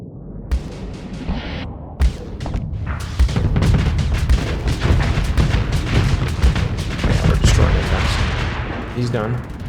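Spaceship combat in the game Starsector erupts in dense, repeated explosive booms and rapid gunfire-like blasts, loud and nearly continuous across the whole stretch.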